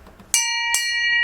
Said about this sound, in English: that deserves a bell